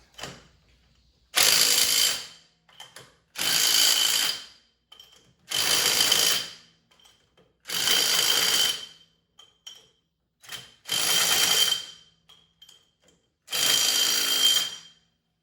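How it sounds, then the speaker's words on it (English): An impact wrench fastens rear wheel spacers onto a John Deere 2025R compact tractor. Six loud, close bursts of about two seconds each are separated by short pauses with light clicks. "I'm simply just putting them all on. I'm going to use the impact."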